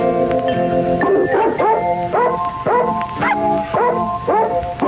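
Small dogs, a poodle and a schnauzer, yip and bark in quick repeated bursts, loud and close, with high whining notes between barks.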